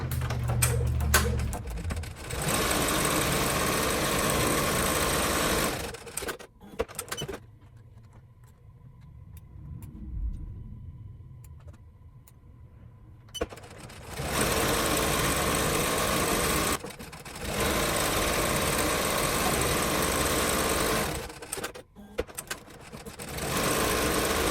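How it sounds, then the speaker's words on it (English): A Ricoma EM1010 embroidery machine stitches a decorative outline around the edge of an animal print key chain. It makes a steady, rapid mechanical whir that stops for several seconds midway, then resumes at the same pace. "Now it's going to do the decorative around the edge"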